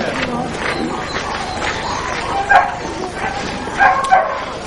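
Greyhounds barking, yipping and whimpering before a race at a racing stadium, several dogs sounding together in a busy, continuous mix with a few sharper bark peaks.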